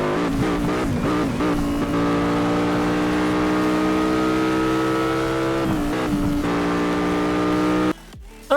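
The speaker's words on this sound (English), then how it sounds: "And this is a recording of the V10 in the game." A V10 car engine from the racing video game Asphalt 8 drones loudly and steadily, revving briefly at the start and near the end with rising harmonics, then cutting out abruptly just before the close.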